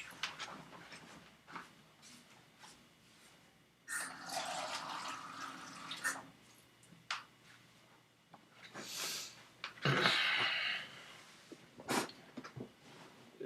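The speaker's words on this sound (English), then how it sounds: "I'm gonna grab a glass of water." Water runs from a tap into a glass in a kitchen, several short pours and splashes with brief pauses and small clinks, fairly faint and close, with no one speaking.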